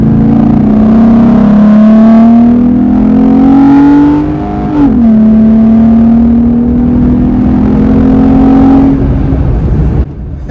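A Jeep Gladiator with a modified exhaust revs hard and accelerates, its exhaust note rising in pitch with a brief dip as it shifts gear, loud and close throughout.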